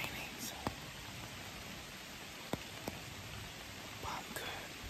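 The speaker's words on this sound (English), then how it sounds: "It's still raining" Soft, steady rainfall outdoors in Georgia, USA, hissing throughout, with a few sharp drips or taps standing out here and there, fairly quiet and even.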